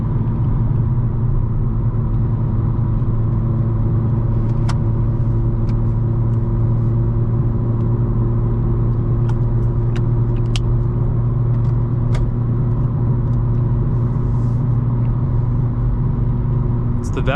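A BMW M4 Competition xDrive with its exhaust valves open drones loudly and steadily from inside the cabin, a constant deep engine and exhaust rumble with a few faint clicks over it.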